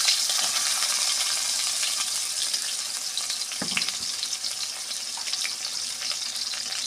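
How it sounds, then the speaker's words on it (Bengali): Pointed gourd (potol) frying in oil in a pan for a Bengali potol posto dish, a steady close hiss and crackle that runs unbroken, with a brief clink partway through. "পটলগুলো আমি ভেজে নেব।"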